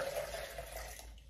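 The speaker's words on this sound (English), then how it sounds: "Another 1/2 liter into your serving jug." Water streams into a serving jug in a short, faint, steady pour with a slight rising ring.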